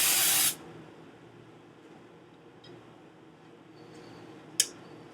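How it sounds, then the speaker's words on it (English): Cooking spray is sprayed onto a clean baking pan before cornbread batter goes in, a single loud hissing burst lasting about half a second, then a quiet kitchen with a faint click. "And you want to spray it down."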